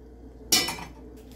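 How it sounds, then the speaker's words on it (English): Two cups of ice tipped into a blender holding strawberry and orange smoothie ingredients, a single sharp clattering rattle of cubes against the jar that decays quickly in a quiet kitchen. "the final step is now is just to throw in the 2 cups of ice"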